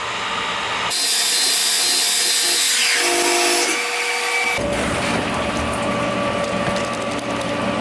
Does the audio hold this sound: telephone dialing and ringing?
no